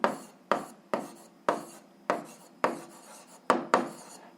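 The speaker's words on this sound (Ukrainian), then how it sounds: "записуємо відповідь, пишемо відповідь" Pen writing an answer on paper, eight or so crisp strokes in a quick uneven rhythm, each a sharp tap trailing into a short scratch, close and clear with no talking.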